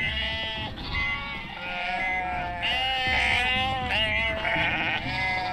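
Several sheep bleating in the UnMetal video game, a close, loud chorus of overlapping wavering bleats repeating throughout.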